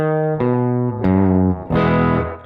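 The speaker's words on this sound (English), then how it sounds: "you can do a slapback like this to get that kind of roomy, reverby sound" Electric guitar chords ring out one after another through a delay pedal set to slapback, each note trailed by a quick, close echo that gives a roomy, doubled sound.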